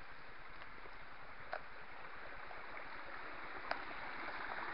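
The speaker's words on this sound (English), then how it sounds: "All these little streams are coming from different directions here, and they're all joining up" Small streams near Kinpurney Tower in Scotland flowing from different directions and joining up, a faint, steady wash of trickling water with a couple of brief ticks, no voices.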